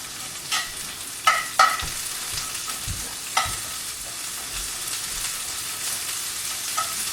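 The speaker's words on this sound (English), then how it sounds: "You're going to fry it in medium heat so that the onion does not get burnt." Steady sizzling of onion frying in a pan over medium heat, with occasional sharp clinks and scrapes of a utensil stirring, close up and without voices.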